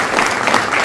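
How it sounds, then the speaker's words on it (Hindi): Loud, dense applause from an audience, steady clapping throughout with no pauses. "एक बार आप जोरदार तालियों से"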